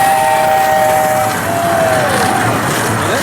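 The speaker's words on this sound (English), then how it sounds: "The zoo's home to a train, and this thing books." A small passenger train at the San Francisco Zoo rumbles loudly past at close range, a steady roar with a thin, wavering whine riding on top as it moves quickly by.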